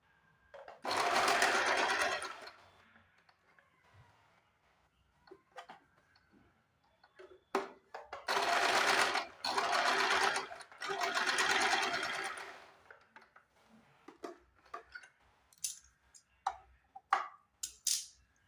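Sewing machine stitching diagonal tucks on a katori blouse, running in three close, loud bursts of fast rhythmic whirring separated by pauses filled with small clicks and handling taps.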